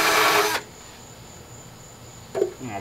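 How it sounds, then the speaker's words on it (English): A drill spinning a Scotch-Brite pad against a removed engine oil pan, giving a loud, harsh scrubbing whir for about half a second, followed by quiet and then a short second burst of contact. "hitting it with the Scotch-Brite pad on the drill"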